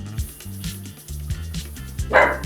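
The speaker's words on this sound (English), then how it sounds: "And Abby's gonna continue to bark behind me" A dog barks repeatedly in the background of a home setting, a steady run of short yips and woofs with one louder, brighter bark near the end.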